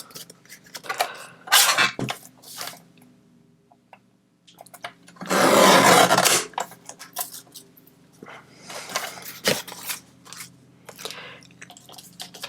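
Scissors or a trimmer cut through the front of a recycled Christmas card, giving bursts of crisp paper cutting and rustling, one longer loud slice in the middle, close and without talk.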